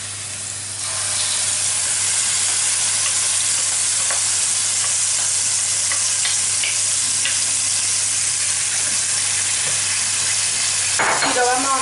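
Zucchini pulp sautéing with chopped garlic in a pan, a loud continuous sizzle rising after a quiet start, dotted with small stirring clicks and a scraping rattle near the end.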